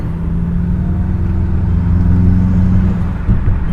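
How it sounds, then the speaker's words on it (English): A 2005 2.5GT car with a Mishimoto turbo inlet accelerates, giving a steady low engine drone with a faint turbo whir above it, heard from close by with no talking. "You can definitely hear the turbo more."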